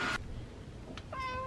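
A cat gives a short meow, then a longer, clear meow near the end, close by, over a steady low background hum.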